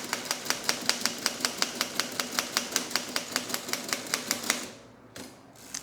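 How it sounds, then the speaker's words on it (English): A typewriter types out the alphabet on a scrap of note card with a steady run of crisp, evenly spaced key strikes, about four a second. It stops near the end, followed by a brief mechanical shuffle. "type the alphabet."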